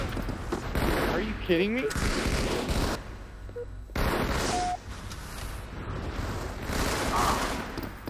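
Halo 2 free-for-all gunfire rattles in rapid bursts with sharp pops and dense shooting that cuts in and out, while a player talks over the action.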